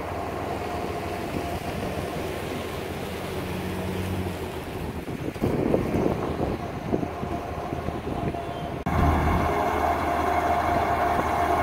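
A tourist ride train at Goldfield ghost town rumbles past nearby with a steady low drone and clattering, growing louder toward the end, with wind noise and no talking.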